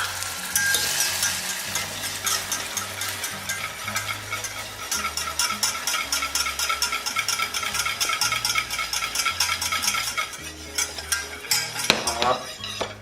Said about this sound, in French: quand je vais rajouter mon beurre et ma crème, le caramel va continuer à cuire